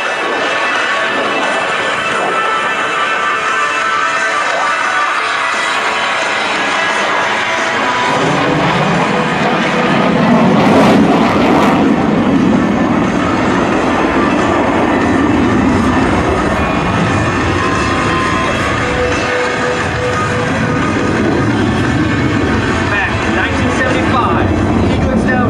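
An F-15E Strike Eagle jet roars during an air show demonstration, loud and continuous with a swelling mid-clip rumble, while an announcer talks over it throughout.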